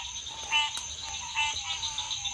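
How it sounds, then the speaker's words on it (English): Green tree frogs calling in a wetland, a chorus of repeated high nasal croaks pulsing over a steady insect drone, fairly close and clear with no voices. "That's those green tree frogs starting up."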